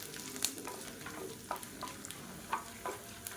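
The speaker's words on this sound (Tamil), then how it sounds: "இந்த எண்ணெயிலே நல்லா வதக்கிக்கலாம்." Garlic, ginger and tamarind sauté in hot oil, a quiet close sizzle broken by scattered stirring scrapes and clinks, with no voices.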